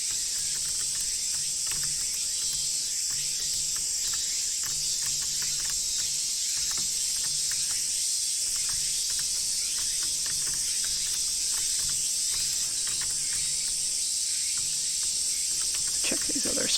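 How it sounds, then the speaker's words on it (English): Loud crickets chirp in a steady, continuous high drone from the game The Kids We Were, filling the whole scene with faint rustles beneath. "Oh, those crickets are loud."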